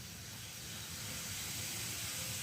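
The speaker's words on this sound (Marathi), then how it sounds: "आता तेल आहे आता यामध्ये प्रथम आपण जिरे मोहरी आणि जिरे टाकणार आहोत" Cumin and mustard seeds sizzle in hot oil, a close, steady hiss that fills the short moment without any voices.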